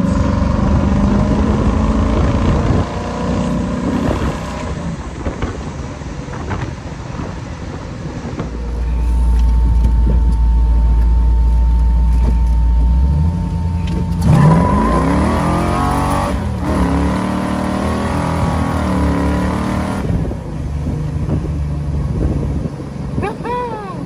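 A 1957 Chevrolet Corvette's engine, running a little rich, drones and surges as the car drives, with the revs rising and falling and some wind noise, heard from inside under occasional talk.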